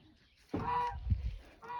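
Goose honking close by in the evening, one loud nasal honk followed by a lower grunting call and the start of another honk.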